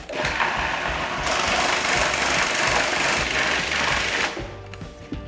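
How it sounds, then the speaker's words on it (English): Food processor running hard as it blends bolognese sauce with torn herbs and lemon zest, a loud, steady whirring drone that holds for about four seconds before cutting off, followed by a few light clatters. "give it a bit of a tear up to help the processor, and finally a bit of lemon zest. So here we go, one last process"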